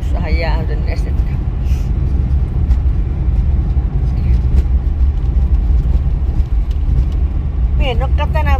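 Car driving along a road, a constant low engine and tyre rumble filling the whole stretch, heard from inside, with people talking briefly over it.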